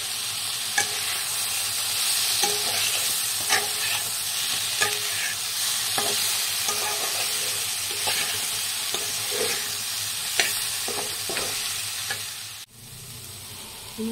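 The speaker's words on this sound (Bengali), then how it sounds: "এবার এই সোয়াবিনগুলোই আমি কড়াইতে দিয়ে দেবো। সোয়াবিনগুলো আমি এর মধ্যে দিয়ে দিলাম।" Soaked, drained soybeans frying in a kadai, a constant bright sizzle overlaid with frequent rhythmic scraping and clinking of a spatula stirring against the metal, near and steady, ending with a brief drop in the hiss.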